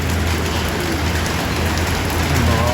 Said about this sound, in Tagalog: Malakas yung ulan dito ngayon